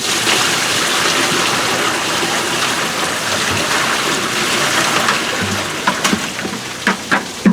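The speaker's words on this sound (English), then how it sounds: "I'm going to keep continuously dumping into the driver's side so you can see how fast these drain" Water from 5-gallon pails poured into the driver's side of a RZR and draining through floor drain plates: a loud, steady gushing rush, with splashes and knocks toward the end.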